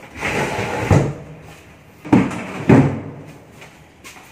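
A piece of furniture is pushed and slid into place in an interior, with a broad scraping rumble and three distinct knocks as it moves and settles, close and fairly loud, with no talking.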